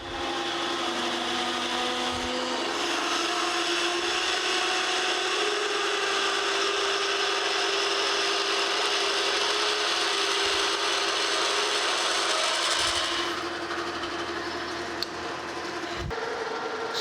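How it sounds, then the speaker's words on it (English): A 7/8 inch drill bit grinds steadily through a cast iron gear blank for most of the clip, a continuous loud mechanical whirr that eases off near the end. "Next here I've got a 7/8 inch drill bit."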